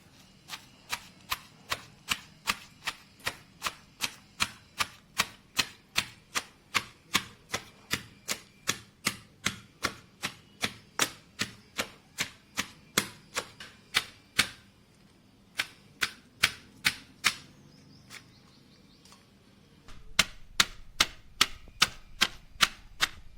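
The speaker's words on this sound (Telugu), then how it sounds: "ఇప్పుడు మనం దీంట్లో వెల్లుల్లి, గోంగూర వేసుకొని దంచుకుందాం" Garlic and gongura leaves pounded in a stone mortar for Guntur-style chutney, a steady run of sharp, evenly spaced thuds, close and loud, with a brief pause before the pounding resumes.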